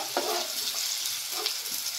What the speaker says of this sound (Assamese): এইখিনি অকণমান ফ্ৰাই হ'ব দিব